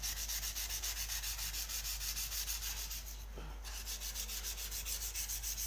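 Mini axe being sharpened with a sanding disc, a continuous close rasping grind with a fast regular pulse, briefly dipping near the middle before resuming, with no talking.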